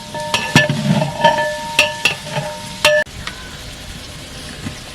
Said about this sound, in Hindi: मिक्स कर लेंगे चिकन को।